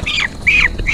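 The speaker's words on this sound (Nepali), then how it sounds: "मम्मी यो के कुखुरा हो?" A poultry chicken gives three quick, loud, close squawks within a second, each a sharp rising-then-falling cry.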